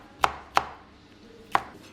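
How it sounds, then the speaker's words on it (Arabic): A knife chops onion on a cutting board while Egyptian falafel filling is prepared, three sharp, distinct strikes spaced unevenly across the moment, close and clear with no voices. "ممكن نقطع البصله باي طريقه، حتى لو سلايسز مش هتفرق خالص"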